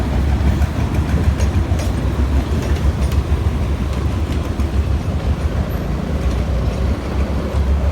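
Hitachi locomotive number 4522 hauling freight train 985 round a curve near a level crossing, a loud, continuous rumble of wheels and wagons close by, with faint rhythmic clatter throughout.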